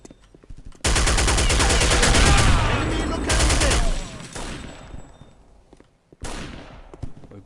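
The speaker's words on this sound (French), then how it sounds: "écoutez, on a une batteuse" Machine gun fire in the computer game Counter-Strike: Condition Zero: a long, loud, continuous automatic burst lasting a few seconds, tapering off, then a brief second burst after a short pause.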